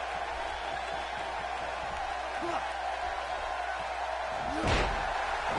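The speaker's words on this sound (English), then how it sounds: "Slams his face into the mat." A wrestler slammed face-first onto the mat during an independent wrestling tournament match, with a heavy thud near the end above crowd noise and commentary.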